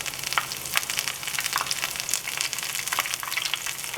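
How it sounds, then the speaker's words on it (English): Onion rings frying in hot oil, a steady, crisp sizzle with bursts of popping and crackling all the way through, close and fairly quiet, with no voices. "we're going to fry these onion rings on each side for about 1 minute"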